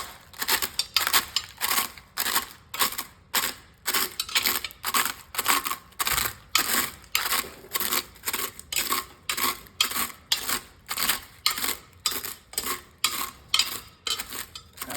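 A bag of Doritos nacho chips is crushed by hand inside a crock pot, a close, rhythmic series of crinkling crunches repeating roughly every half second throughout.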